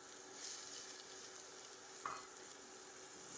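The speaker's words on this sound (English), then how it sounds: "Add the shallots and cook for 2 minutes." Shallots cooking in melted butter in a skillet over medium heat, a soft steady sizzle with a faint stir or scrape partway through, quiet and close with no talking.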